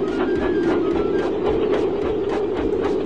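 Percy the steam engine puffs along the rails with a rhythmic chuff and clickety-clack, regular beats over a steady rumble, close and moderately loud, with no talking.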